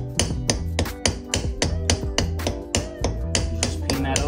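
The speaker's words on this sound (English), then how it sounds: "You just peen that over." Sharp metallic hammer taps peening brass pins on a knife handle, about a dozen quick, evenly spaced strikes close up with a ringing edge, no talking.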